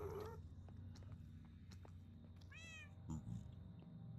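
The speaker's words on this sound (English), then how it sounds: "Don't meow at me. You're a miserable little cat." A cat meows in the Minecraft video game, a short, fairly loud rising-and-falling call over a steady low background hum, with a brief knock just after.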